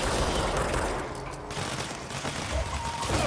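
Dense bursts of rapid gunfire crackle continuously in the video game Control, loud and close, with sustained automatic shooting and no talking.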